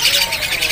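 Golden-headed weaver birds, young males, chirp steadily at a bird market stall, a dense high twittering that runs throughout without pause, fairly loud and close.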